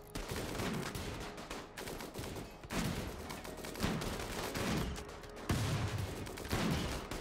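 Gunfire aimed at a doomsday enemy in the RimWorld video game, dense bursts of game shots crackling in waves, loud and continuous with brief lulls between volleys.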